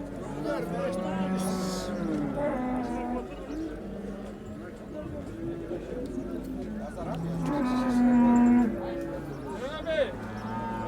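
A Simmental calf and a cow at a livestock market in Çubuk, Ankara, with repeated loud moos and bellows near the listener while people talk steadily in the background.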